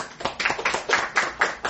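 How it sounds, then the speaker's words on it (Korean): A church congregation at a Sunday service applauds in thanks, a short burst of brisk, moderately loud hand clapping with overlapping claps in quick rhythm. "감사의 박수 올리기 바랍니다"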